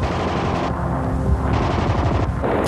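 Rapid bursts of machine gun fire in a wartime battle setting, loud and close, with a fast rattling rhythm of shots and booming echoes.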